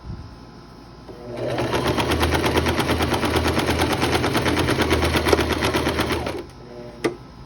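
Close sewing machine stitches a dress seam in a fast, even rattling burst lasting about five seconds, then stops, with a single sharp click afterward and quiet room tone around it.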